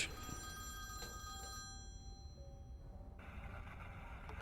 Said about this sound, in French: il y a bien un téléphone, hein, t'as l'impression que c'est de lui que vient la sonnerie.